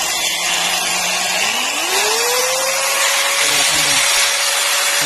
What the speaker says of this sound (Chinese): 我这个800瓦的电动工具可以啊